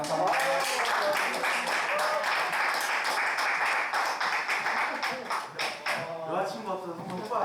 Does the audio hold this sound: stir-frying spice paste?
no